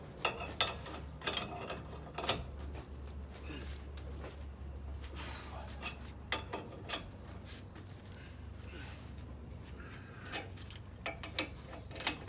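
Ball joint press clamp being backed off on a 2002 Duramax 4x4 front end, giving repeated ratcheting clicks in short bursts over a steady low hum, fairly quiet and close.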